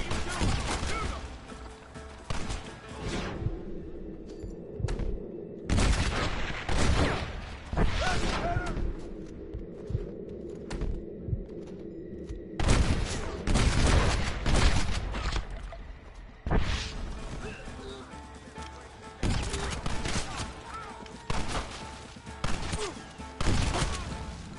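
Gunfire in a shootout in Red Dead Redemption, with sustained volleys of rifle and pistol shots, crashes and ricochets in waves across the scene, loud and continuous, with voices shouting during the fighting.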